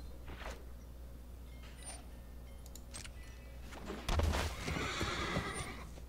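A horse neighs from the card game Magic Arena: a few short, whinnying calls, then a louder swell of whinnying and clopping toward the end, over a constant low hum.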